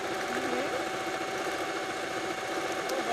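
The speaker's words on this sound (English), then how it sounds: "And then also you can sew along on the seams." A sewing machine stitching along quilt seams, a steady, even mechanical hum with a fast, continuous vibrating rhythm, close and constant for the whole stretch.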